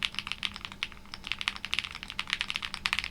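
Quick, uneven keystrokes on an Owlab mechanical keyboard fitted with PE foam, each press a crisp, close, poppy clack in a fast typing burst with nothing else heard.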